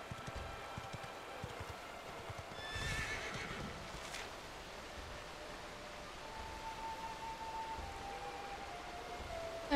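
Horse neighing and hooves clip-clopping in the video game Dragon Quest XI, a short whinny near the middle over a steady wash of game ambience and music, no talk.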